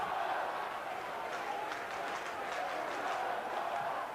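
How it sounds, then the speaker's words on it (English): Charlton Athletic supporters at a 1995 League Cup match against Wimbledon make a distant, diffuse stadium roar with scattered claps and shouts, steady throughout. "the Charlton crowd have produced a bit of noise there"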